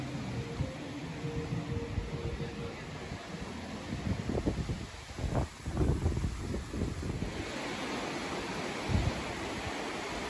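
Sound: wind blowing on the beach at Diani Beach, Kenya

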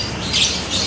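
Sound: canaries chirping at a bird shop

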